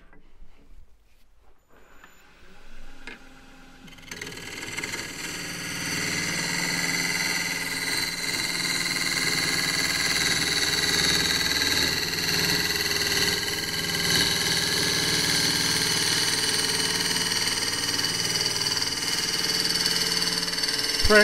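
A wood lathe spins a claret ash vase blank while a 3/8 bowl gouge cuts it, beginning quietly, then a steady dense hissing, rushing cut that carries on loud and continuous to the end.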